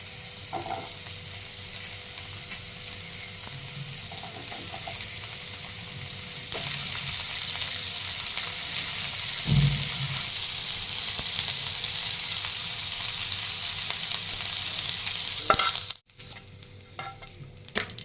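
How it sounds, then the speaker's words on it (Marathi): Ivy gourd stir-fried in a pan, a continuous close sizzle with periodic stirring scrapes that grows louder partway through, then drops suddenly near the end. "तर आता हे टोनले परतून घ्यायचे आहेत आपल्याला परतून घ्यायचे आहेत"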